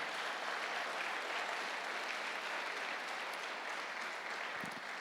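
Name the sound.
congregation applause of praise to God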